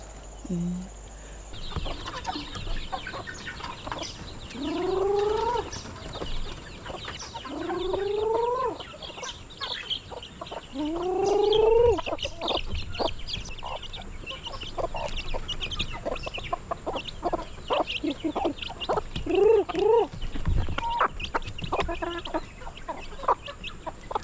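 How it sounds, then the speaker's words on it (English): Chickens being fed cluck and squawk close by, with a few drawn-out rising calls standing out among steady busy clucking and scratching noises. "Anne's gonna feed the chickens."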